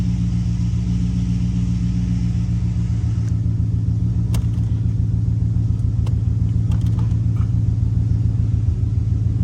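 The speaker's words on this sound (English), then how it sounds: "Gotta love those MBRP mufflers, man. Those axle backs, those are badass." A Ford car with an MT82 transmission idles through MBRP Installer Series axle-back mufflers, giving a steady, deep exhaust rumble up close that holds evenly throughout with a few faint clicks over it.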